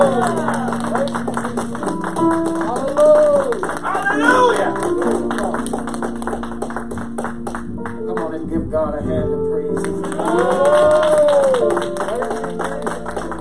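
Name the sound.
church congregation clapping hands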